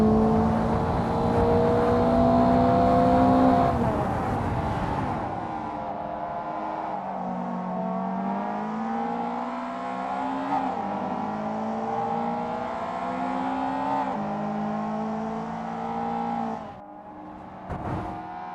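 A Mazda Eunos Roadster lapping a track in Assetto Corsa, its engine droning and rising through revs, dropping on a shift, then pulling steadily through the lap before easing off near the end; no speech.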